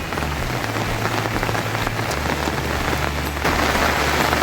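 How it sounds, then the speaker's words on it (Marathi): Heavy monsoon rain in Konkan during rice transplanting pours steadily onto a surface, a dense, constant hiss with a low hum underneath and no voices. "पावसानं तर खूपच जोर घेतला आहे"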